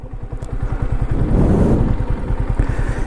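A motorcycle engine idles close by with a loud, steady, low chugging putter lasting throughout, near a waterfall outing.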